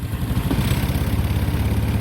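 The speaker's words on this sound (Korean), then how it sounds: "시동 걸어볼게요." A scooter engine fires up after a smart-key remote unlock, then settles into a steady, close, rumbling idle with an even low throb, heard alone without talk.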